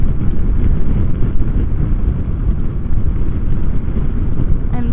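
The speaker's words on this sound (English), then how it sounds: "But now we have a huge headwind that we're gonna have to fight on the way back." Strong headwind buffets a motorcycle rider, a constant loud, low roaring rumble that fills the whole stretch without a break.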